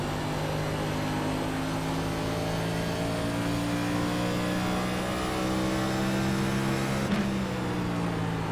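A race car engine in the iRacing Phoenix Cup drones steadily and loudly at high revs, its tone holding level with a brief shift-like break near the end and no talking.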